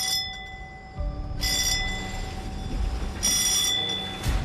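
Bell signals aboard an anchovy fishing boat at sea: bright metallic ringing bursts sound twice, each lasting under a second, over a steady engine hum and a faint continuous tone.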